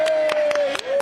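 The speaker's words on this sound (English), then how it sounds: "Chris, and the applause is almost unbearable." A handful of separate, crisp hand claps from a studio audience on a TV chat show, spaced unevenly over a moment, with a sustained voice running underneath.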